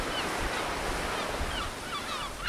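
Ocean waves breaking in the surf on the Wadden coast, a continuous wash of surf with wind noise, with faint gull calls near the end.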